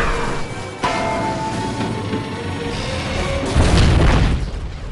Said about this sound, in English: They escape, but not before having their own Bay explosion.